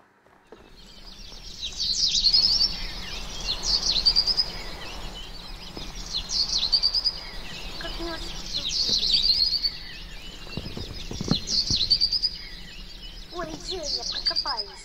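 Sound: birds chirping in Minecraft video game

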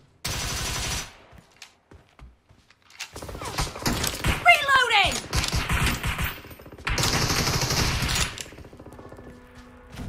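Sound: gunfire in video game PUBG Mobile

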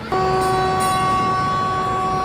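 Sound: amusement park ride train arriving

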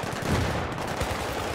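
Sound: shotgun shots in the video game Battlefield 3

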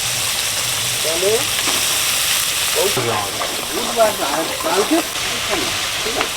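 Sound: onion and ginger-garlic paste frying in mud eel frying oil

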